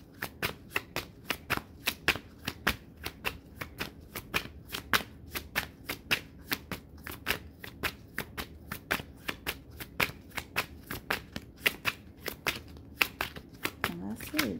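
An oracle card deck is shuffled over and over, a long run of crisp, rapid riffling bursts in a steady rhythm, close to the microphone and fairly quiet, with faint voice in the background.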